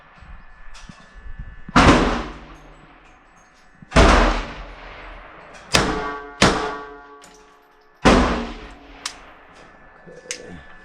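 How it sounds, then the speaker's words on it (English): A Beretta 80X Cheetah pistol fired in paired double-tap shots at a shooting range, several loud sharp reports with ringing decay, spaced a couple of seconds apart. "double taps where the first shot is double action, the second shot is single action"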